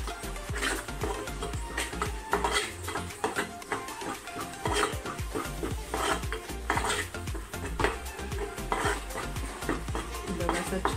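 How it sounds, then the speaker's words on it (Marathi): Chicken liver masala sizzles in oil while it is stirred and sautéed in a pan: steady frying crackle under repeated scraping strokes of a spoon, close and fairly loud throughout. "तर आता मसाला व्यवस्थित भाजून घ्यायचा आपल्याला, त्याला तेल सुटेपर्यंत छान परतून घ्यायचं आहे।"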